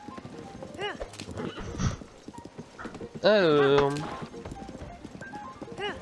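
A horse in the video game Zelda Tears of the Kingdom clip-clopping and letting out a loud, drawn-out whinny midway, with rhythmic hooves under someone talking in French.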